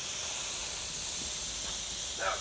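Steam hisses steadily from a Boucher CF1 boiler under a 60 psi test, a loud, continuous broadband rush that holds without pause.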